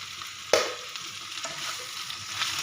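Onion, tomato and ginger-garlic paste fry in a pan for a white brinjal dish, giving a steady, close sizzle, with a sharp clatter of stirring near the start and softer scrapes after.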